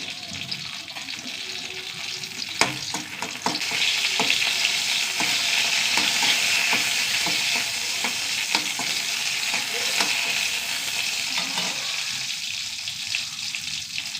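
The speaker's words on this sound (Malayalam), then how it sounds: "ആദ്യം മുളകൊന്ന് വറുത്തെടുക്കും" Chillies sizzle in hot oil for a prawn chammanthi while a spoon stirs and scrapes the pan, a steady close frying hiss over several seconds.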